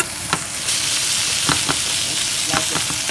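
Steak sears in a frying pan with sesame oil, bay leaves and onions, giving a steady close sizzle with a few brief crackling bursts and no talk.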